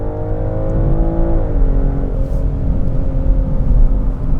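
A BMW X5 xDrive50e plug-in hybrid SUV accelerates hard in sport mode, a loud, steady engine drone rising then settling in pitch as it pulls, heard from inside the cabin with no talk.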